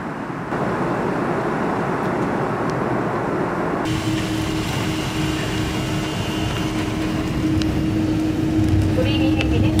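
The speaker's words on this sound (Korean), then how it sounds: "우리 비행기는 방금 도착했습니다" An airplane cabin just after landing fills with a steady, loud, broadband rumble of engines and air systems. The tone shifts partway through, and faint voices can be heard beneath the noise.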